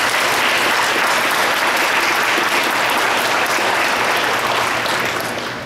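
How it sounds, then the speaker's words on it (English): Big, sustained applause from an audience at a December celebration, loud and steady throughout before tapering slightly at the end, with no talk over it. "That was a big applause"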